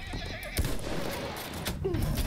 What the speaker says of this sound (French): M'énerve les chevaux là.